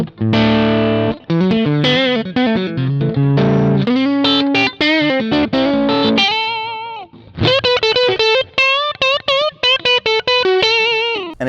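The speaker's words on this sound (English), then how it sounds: "Go over to the middle position." A G&L ASAT Special electric guitar with a jumbo MFD pickup, switched to the middle position, plays loud, snappy distorted single notes and chords with wobbly modulation, a continuous busy phrase with brief gaps.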